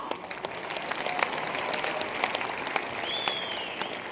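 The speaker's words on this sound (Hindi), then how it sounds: "ताली तो होनी चाहिए।" An audience at a direct-selling awards speech applauds the left and right teams, a sustained, fairly distant crowd clapping with scattered sharper claps and a faint whistle-like tone near the end.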